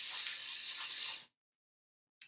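A human voice imitates air leaking from a tire: one steady, sharp hiss held for just over a second, then cut off into silence.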